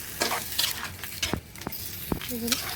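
A utensil stirs radish into fish cooking in a pan. Scattered scrapes and soft knocks ring against the pan over a faint sizzle. A voice talks briefly nearby.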